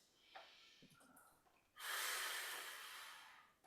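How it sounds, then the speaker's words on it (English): Steady, forceful exhalation through pursed lips during a breathing exercise class, a loud breathy hiss lasting about two seconds after a few fainter breaths and small noises. "So we're still breathing out through pursed lips."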